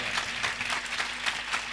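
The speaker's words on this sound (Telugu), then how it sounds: "ఒకసారి చప్పట్లు కొడతారా అండి, గట్టి కొట్టాలి, అందరు కొట్టాలి." A congregation claps together at a memorial gathering, a dense, steady patter of many hands filling the room from start to finish.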